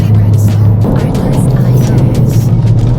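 A car on a cool-down lap during a track day produces a steady, close engine drone with wind and road roar that holds level throughout, with no clear revving peaks.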